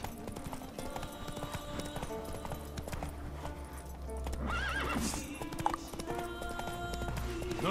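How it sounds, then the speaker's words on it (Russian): Horses in the video game The Witcher 3: Wild Hunt whinny loudly over a steady clip-clop of hooves, with game ambience running underneath. "О-хо-хо, лошадочки."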